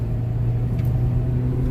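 A Hyundai Elantra CNG car drives with a steady low engine rumble under acceleration, heard from inside the cabin, with a brief faint click partway through and no talking.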